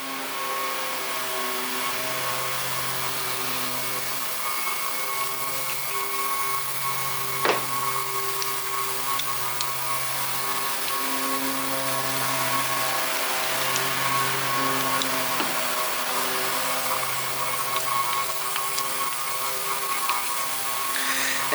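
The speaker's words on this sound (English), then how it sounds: "Apologize for the compressor. It's going to kick in here in a minute as soon as I start blowing." An air compressor runs in a lawn mower repair shop with a continuous close drone and a slow rhythmic throb. A couple of faint sharp ticks sit in the background.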